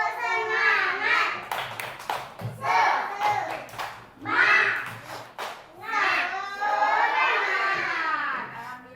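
A group of schoolchildren in an Indonesian classroom chant together and clap in rhythm during a teacher-led clapping game, their voices close and lively with sharp hand claps mixed in.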